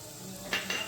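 Spices frying in a pan for vegetable fry idli give a faint, brief sizzle, with two quick clinks of a spoon against the pan.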